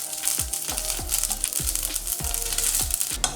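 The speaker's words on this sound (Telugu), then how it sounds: "కరివేపాకు రెబ్బల్ని ఇందులో వేసుకొని వీటిని కూడా మరమరలాడే వరకు వేయించుకుందాం" Curry leaves and green chillies crackle and spit in hot oil, a close, loud run of sharp pops and sputters repeating every fraction of a second over a steady sizzle.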